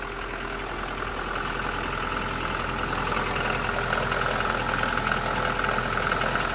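An oldtimer car with a CHV engine idles after a cold start, a steady, even mechanical drone with a light ticking texture, heard close up with no talk.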